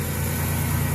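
A 1988 Toyota 4Runner engine idles with worn drive belts, a steady low hum that runs evenly through the short moment, close by and without talk.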